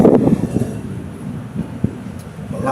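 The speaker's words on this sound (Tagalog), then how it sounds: "Lakas ang hangin." Strong wind sweeps across a rooftop overlooking Manila Bay, buffeting the microphone as a steady low rumble with brief gusts.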